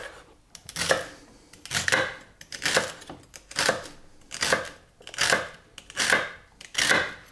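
Celery stalks for a vegetable broth are chopped into small pieces with a knife: about eight crisp, evenly spaced cuts against a board, close and fairly quiet, with no talk.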